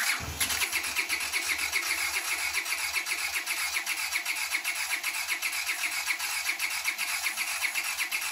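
A carbureted motorcycle engine, a Honda CX500 or Suzuki GS450, cranks and catches on choke, then settles into a steady, close, loud rhythmic running with regular low pulses and no voices.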